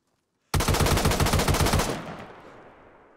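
A rapid burst of SKS rifle fire in the video game DayZ, about a dozen sharp, loud shots in quick succession, then a fading echo with no voices.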